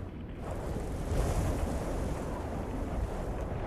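Wind gusts steadily across an outdoor balcony in the video game Condemned 2: Bloodshot, a broad, continuous rushing roar at moderate level with no voices.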